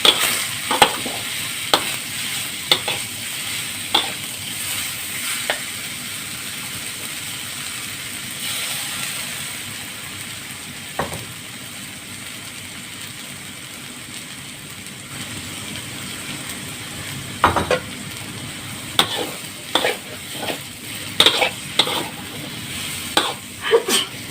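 Intermittent scraping and clatter of a utensil stir-frying noodles and water mimosa with shrimp in a wok, over a steady low sizzle, with sharper bursts of clanking toward the end.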